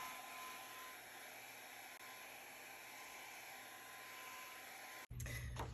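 A heat tool blows a steady, loud, airy whir while drying distressed oxide ink on a journal page, cutting off abruptly near the end before a brief lower rumble.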